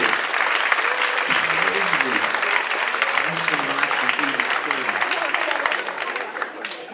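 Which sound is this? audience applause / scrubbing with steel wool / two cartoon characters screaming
audience applause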